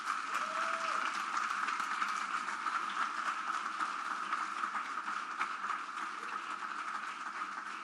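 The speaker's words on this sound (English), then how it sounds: "Can we give them a round of applause?" Faint, distant applause from a conference audience at an Indaba gathering honouring Indaba X organizers, a steady wash of clapping with no talking.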